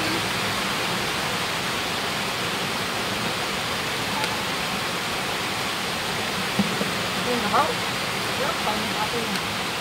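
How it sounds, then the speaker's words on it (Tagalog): A river current flowing strongly during stormy weather on an outing, heard as a steady, loud broadband rush of water that fills the whole clip, with faint voices underneath. "lumalakas na yun naman yung agos niya, oh"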